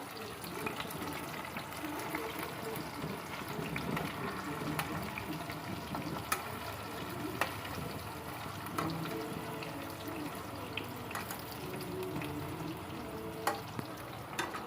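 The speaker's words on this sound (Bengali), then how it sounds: "আমি পটলগুলো একটা একটা করে উল্টে দিচ্ছি" Pointed gourd (potol) pieces frying in a pan, turned one by one: a steady close sizzle runs throughout, with occasional clinks and stirring knocks on top and no talking.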